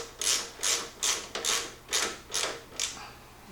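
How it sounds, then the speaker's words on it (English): Nuts being tightened with a ratcheting tool while assembling a California Trimmer reel mower: seven crisp ratchet strokes in a steady rhythm, close and fairly quiet, with no talking. "All right, tighten these up."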